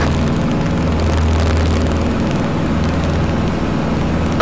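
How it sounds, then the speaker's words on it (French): A small propeller aircraft engine being throttled up smoothly on a solo navigation flight near Besançon, a loud continuous droning roar with a steady low hum, close up in the cockpit and without speech. "Remise de gaz progressive"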